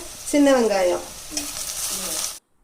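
Large onions and green chillies sauté in a pan for a mushroom biryani, giving a brief close sizzle with stirring sounds that cuts off into silence.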